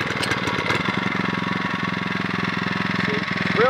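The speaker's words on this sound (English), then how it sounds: "Ignition on, set the throttle, just give it a hair of throttle, and choke." A Predator 79cc small gasoline engine pulls and fires up, settling into a fast, even putter that runs close and steady, with a brief rising whine near the end.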